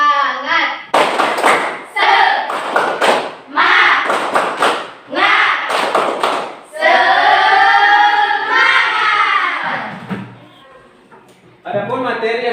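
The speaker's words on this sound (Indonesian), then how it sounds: "Tepuk semangat." Classroom of students doing a rhythmic spirit clap led by a teacher, bursts of patterned claps and thuds mixed with voices chanting along, then a sustained group shout and a short return of clapping at the end.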